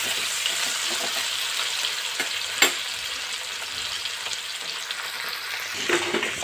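Okra fries in a pan with a continuous dense sizzle throughout, one sharp clack of the spatula midway and a few softer stirring scrapes near the end.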